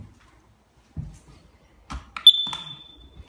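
A carbon monoxide detector being tested in a house under renovation gives a single sharp, high electronic beep that rings on and fades, amid a few quiet handling knocks and clicks.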